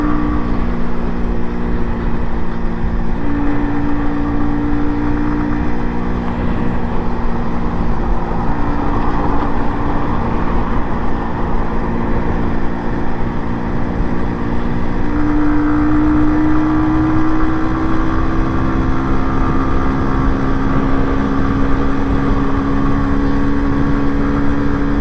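An MZ TS125 motorcycle ridden through traffic, its engine droning loud and constant from the rider's position, the pitch rising and falling with the throttle amid rushing wind and road noise.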